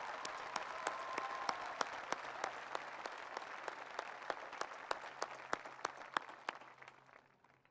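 Graduation ceremony audience claps at a distance in a large venue, a steady crowd wash punctuated by a few sharper near claps at a regular beat, then fading out toward the end.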